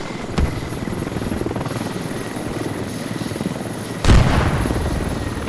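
Helicopter flying in the Squad military video game, a steady loud rotor chop and engine whine throughout, with a sharp thud near the start and a heavy boom near the end.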